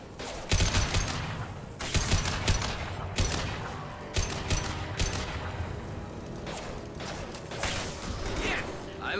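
Rifle gunfire in Mass Effect 2, a run of sharp shots in irregular bursts amid mechanical clatter and battle noise, fairly loud and steady over about nine seconds.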